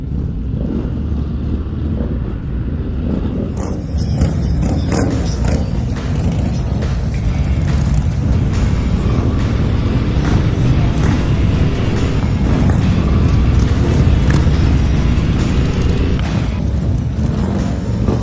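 Several motorcycles, a HOG chapter group on a frosty New Year's Day ride, rumble along the road with steady loud engine drone and heavy wind buffeting throughout, no talking.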